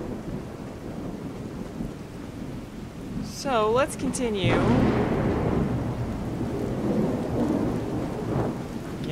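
A rainy thunderstorm rumbles in the Fallout 4 wasteland, steady rain hiss with a rolling thunder swell, while someone talks briefly and a warbling electronic chirp cuts through the middle.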